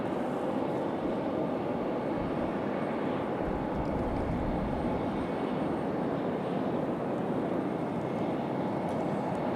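At Raleigh-Durham airport, an airliner preparing to depart for Philadelphia holds a continuous, even jet engine roar, fairly quiet and distant, with no voices over it.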